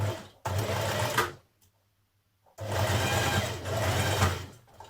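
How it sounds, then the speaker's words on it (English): A sewing machine stitches the side seam of a woven Burda 6225 top in two loud, close runs of rapid whirring separated by a pause of near silence. "I'm going to stitch those together now that I know that they meet accurately"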